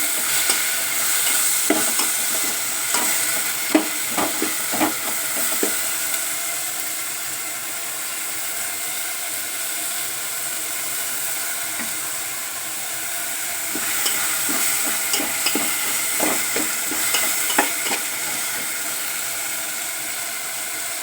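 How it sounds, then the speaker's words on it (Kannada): Tomatoes cook in a pan on a stove for cabbage rice, with a soft steady sizzle broken by bursts of scraping stirring strokes, near and alone without talk. "ಟೊಮೆಟೊ ಹಾಕ್ಕೊಂಡು ಒಂದು ಸ್ವಲ್ಪ ಟೊಮೆಟೋನ ಬಾಡಿಸ್ಕೊಳೋಣ ಟೊಮೆಟೊ ಸ್ವಲ್ಪ ಬೇಯಬೇಕು"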